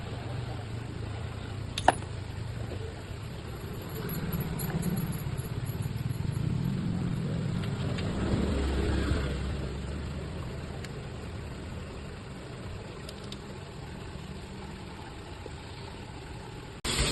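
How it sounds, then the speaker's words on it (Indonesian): Yamaha NMAX scooter engine idling after repair, a steady low hum that swells slightly in the middle and then settles, with a brief click near the start and no voices. "Ini hasilnya, mesin kembali halus."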